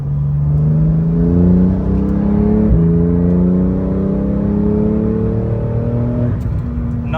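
A Porsche GT2 RS pulls hard under full throttle, its twin-turbo engine note climbing steadily in pitch through the gears with a brief shift break, loud and close throughout.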